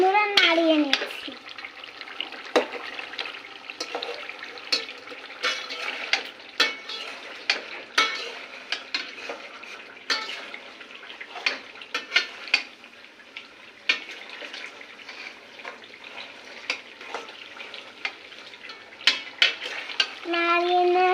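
Beef curry with a spoonful of turmeric being stirred in a pan, repeated spatula scrapes and knocks over a continuous moderate sizzle, close and rhythmic throughout.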